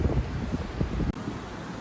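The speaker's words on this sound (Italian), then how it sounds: "Oggi il mare è un po' mosso perché c'è un po' di vento" Wind buffets the microphone on the Lido di Venezia beach beside a slightly rough sea, a steady, close, low rushing roar lasting under two seconds.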